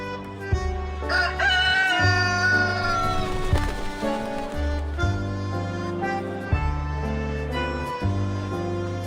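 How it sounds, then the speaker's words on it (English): A white rooster in the Morimens video game gives a single drawn-out crow over a backdrop of game music, loud and close. "This is Amu, my white rooster."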